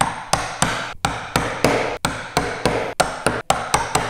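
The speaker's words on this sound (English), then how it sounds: "then do the final chop at the shoulder line." A hand chisel chops along the shoulder line of a hand-cut wooden dovetail housing joint, striking in a steady rhythm of about a dozen sharp, close, evenly spaced blows, each one ringing briefly.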